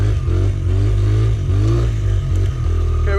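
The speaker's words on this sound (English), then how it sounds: "Stock exhaust." A 100cc Honda CRF100F dirt bike on its stock exhaust runs steadily and close by, its engine note rising and falling in a few small throttle blips without a break.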